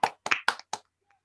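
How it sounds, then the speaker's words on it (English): A few hand claps from a single person in an online meeting, four quick close claps in a short burst followed by silence. "give a nice round of applause to Debbie"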